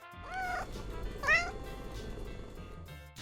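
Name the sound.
cat meowing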